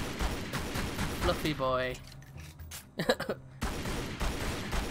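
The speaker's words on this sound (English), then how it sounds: "I want to shoot this scarecrow" Gunfire aimed at a scarecrow in the video game Tomb Raider Legend, a few sharp bursts breaking through a man's chatter, with mechanical game clatter between the shots.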